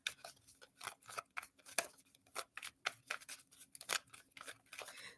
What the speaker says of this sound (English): So this card, this deck that I'm shuffling here, Jasmine, has messages on both sides.